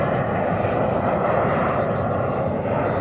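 An arriving airliner on the Madrid flight into DFW Airport fills the air with a steady, broad jet engine roar, loud and continuous throughout.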